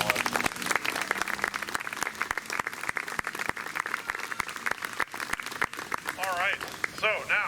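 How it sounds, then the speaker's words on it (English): An outdoor park audience applauds a community band, with dense, sustained clapping from a moderate crowd and occasional louder individual claps, plus brief whistles toward the end. "So we give the band another round of applause."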